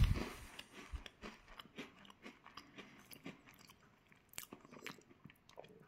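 Close, crisp crunching and chewing of a Sainsbury's peach and cream flavoured custard cream biscuit, a sharp first bite followed by irregular small crunches that gradually soften, with no talking.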